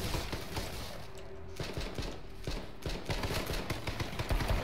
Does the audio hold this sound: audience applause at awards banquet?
no